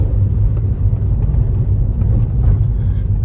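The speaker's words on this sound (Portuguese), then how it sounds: "Teste de subida, vamos ver a força desse carro, hein?" Fiat Fastback Audace hybrid, a 2026 model, climbing a hill, heard from inside as a steady low engine and road rumble, loud and constant for a few seconds.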